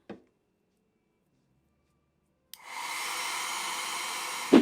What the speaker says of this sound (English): why are you using the blow dryer?